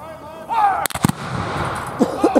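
Civil War reenactment cannons fire outdoors, a sharp loud blast followed by a second report and rumbling echo, with someone shouting commands just before and faint voices after.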